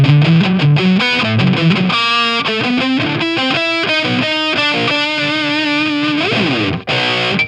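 A Donner DST-550 super strat electric guitar plays a fast melodic run through heavy distortion, loud and close with sustained notes, bends and a brief cutoff near the end.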